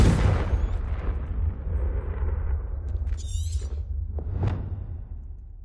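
A Confringo spell blasting in Hogwarts Legacy, a heavy booming explosion with a whooshing rumble that decays over several seconds, followed by smaller crackles and a sharp secondary burst, all without speech.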